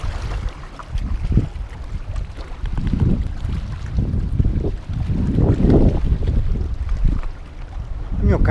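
A boat motors past on the sea by a seaside campsite at a fishing village, its low rumble swelling and fading under heavy wind buffeting the microphone.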